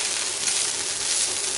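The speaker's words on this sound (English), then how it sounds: "30 seconds into her frying these onions and carrots" Onions and carrots frying together in a pan give a steady, close sizzle with a dense hissing texture, continuous and even with no talk over it.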